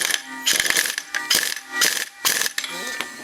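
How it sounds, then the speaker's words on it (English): An impact wrench hammers a staked nut tight on a Honda Fourtrax 300 ATV during a gear reduction install, firing in four or five short rattling bursts with brief gaps between them, loud and close. "So hit this with the impact"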